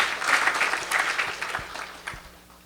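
An audience at a religious storytelling gathering claps for a swami, a dense burst of applause that thins out and fades over a few seconds.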